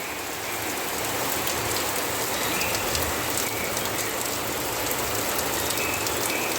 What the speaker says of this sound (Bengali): এত জোর জোর ফোটা পড়ছে মাথা ফুটো হয়ে যাওয়ার মতো খুব বড় বড় ফোটাগুলো পড়ছে